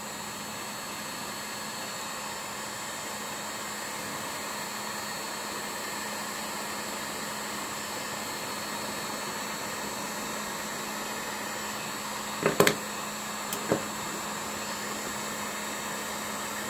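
Heat gun blowing steadily on a retro action figure card, an even, continuous airy rush with a faint whine, a couple of small knocks near the end.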